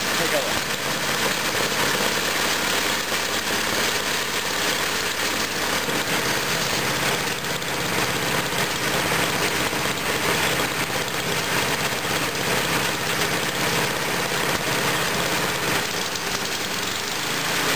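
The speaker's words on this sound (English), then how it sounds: "Auger works, pushes the snow into the center," Snowthrower engine running steadily with its auger turning, a continuous loud mechanical drone with broadband whir and no pauses throughout.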